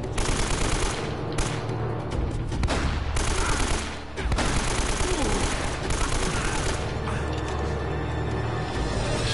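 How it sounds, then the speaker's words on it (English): Dense bursts of rapid gunfire from the video game Uncharted: Drake's Fortune, loud and sustained, with a brief lull partway through before the shooting resumes and continues steadily. "Shots."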